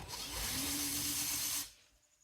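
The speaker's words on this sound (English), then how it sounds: "Let's countersink the front too." A countersinking drill bit whirs into a roller skate plate for about a second and a half, a close, high, steady grinding whine that cuts off abruptly and leaves quiet.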